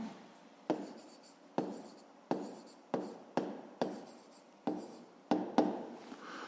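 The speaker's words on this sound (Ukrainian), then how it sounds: "Ми це можемо використати і записати рівняння. Записуємо за умовою." Pen or chalk strokes of an equation being written for a grade-5 math exercise, roughly nine sharp scratching strokes in an irregular rhythm, close and fairly loud with no talking.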